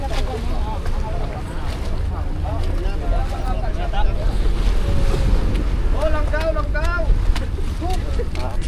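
A bangka boat rides over waves with constant wind and water rush, while people talk and shout in the background.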